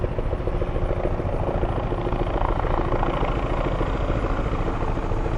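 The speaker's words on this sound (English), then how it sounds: "is that a 4th helicopter or is that just a 3rd one coming back around?" Helicopters circling over a search area, a continuous loud rotor thrum with a faint rhythmic chop that holds steady throughout, with no one speaking.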